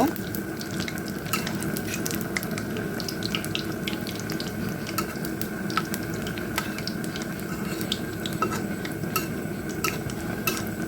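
Banana fritters frying in hot oil in a pan, a steady dense sizzle and bubbling that runs unbroken with occasional crackles and light stirring.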